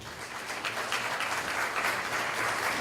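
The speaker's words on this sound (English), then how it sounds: "Can you give her a round of applause, please?" Applause from a school parent meeting audience welcoming a new community relations facilitator, sustained and even throughout, moderately distant and fairly quiet.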